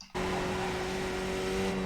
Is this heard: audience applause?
no